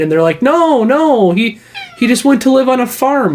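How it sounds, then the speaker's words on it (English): A house cat meows loudly and repeatedly in a home office, drawn-out wavering cries close to the microphone, overlapping with someone talking. "Is there a cat behind you?"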